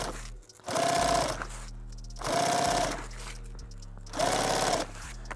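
Three bursts of a sewing machine stitching a rifle case sleeve a couple of inches at a time, each a loud, even motor whir with a rising tone, separated by short pauses with a low hum beneath.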